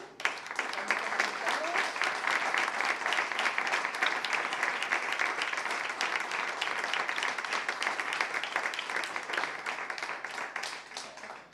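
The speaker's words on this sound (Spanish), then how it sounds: "Que menos que un fuerte aplauso para" An audience at a talk and discussion on taxation applauds at the close of the presentation, sustained dense clapping that holds steady for around eleven seconds before tapering off at the end.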